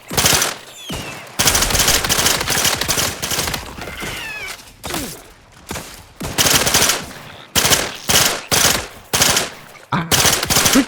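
Gunfire from a silenced gun in the video game The Outer Worlds 2, loud and close, in rapid bursts that repeat through the clip with short gaps between them.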